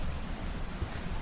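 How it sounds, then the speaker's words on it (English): Rain falls at a quiet temple in Cebu, a soft, steady patter under a low rumbling background, faint and continuous with no speech. "It is raining, so maybe that's part of it."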